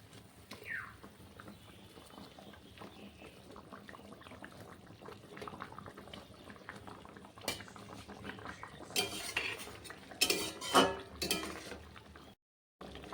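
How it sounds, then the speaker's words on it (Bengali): Katla fish pieces dropped into bubbling Bengali curry sauce in a pot, soft steady simmer with clinks of utensils and splashy bursts near the end, close and fairly quiet. "ঝোলটা ফুটে গেছে, এখন মাছগুলো দিয়ে দিচ্ছি।"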